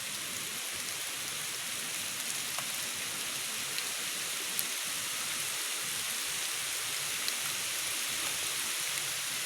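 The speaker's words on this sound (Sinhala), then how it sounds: "හොඳටම වහිනවා" Heavy rain pours steadily outdoors near a lagoon, a dense, even hiss of drops with a few brief louder splashes, continuous and close throughout, no voices heard.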